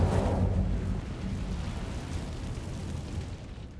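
A fire spell in Hogwarts Legacy bursts loudly at the start, then dies into a long rumbling, crackling roar that slowly fades over a few seconds, with no talking.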